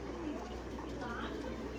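Pigeons coo softly in a short stretch, a low murmuring call over steady background noise.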